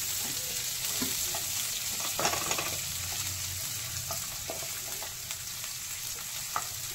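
Chopped onions fry in oil in a pan with a constant close sizzle, broken by occasional clicks and scrapes from stirring.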